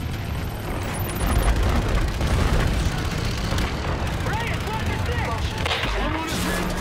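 Artillery fire in Call of Duty: Infinite Warfare, a loud continuous battle roar of booms and rumbling blasts, with bird-like chirps near the end and a voice speaking through it.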